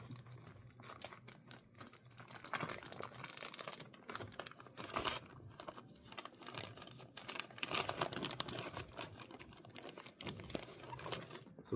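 Plastic packaging of chain sword aquarium plants is pried open by hand, giving quiet, irregular crinkling and crackling rustles that continue throughout.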